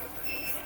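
An RV tire pressure sensor alarm sounds while air leaks fast from a tire, a steady high electronic tone held over a loud rushing background.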